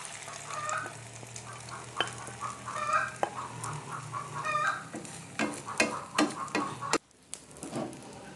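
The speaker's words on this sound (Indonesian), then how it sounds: "ini minyaknya udah panas, sekarang kita langsung dadar saja" Beaten egg fries as an omelette in hot oil, sizzling steadily up close, while a utensil scrapes and taps against the pan in irregular bursts and a short gap falls near the end.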